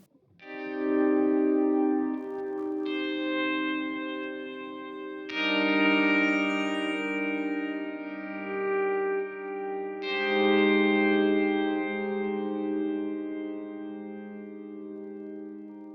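Slow-swelling guitar chords through a Boss DD-500 digital delay pedal rise gently and bloom into lush, echoing repeats, with three distinct swells washing over one another in a long delay tail.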